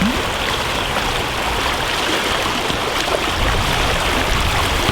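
The Ganaraska River rushes and babbles steadily nearby, running high after being blown out, a constant bright watery hiss with no pauses and no voices.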